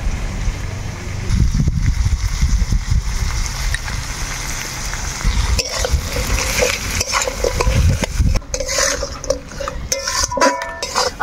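Crab biryani ingredients are stirred in a frying pan with a sizzle of hot oil, a steady scraping and tossing that comes in bursts at close range, with no voices.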